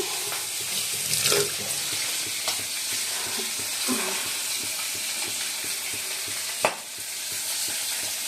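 A pot of bhola fish curry bubbles on the stove with a steady hissing, sizzling bed of sound, broken by a few soft clinks and one sharp tap, with no voices.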